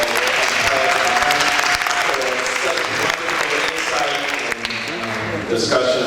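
Audience applause after a debate: sustained clapping from a crowd filling the hall, with a voice speaking over it now and then.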